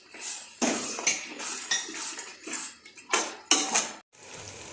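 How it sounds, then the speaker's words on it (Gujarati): A metal spoon scrapes and clinks around a pot of turmeric curry, a string of close, irregular stirring strokes with short pauses and no talking. "બધું મિક્સ કરી દેવાનું"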